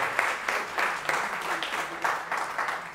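An audience at an award ceremony for a National Order medal gives warm, continuous applause, with the clapping pulsing in rhythmic surges at moderate distance.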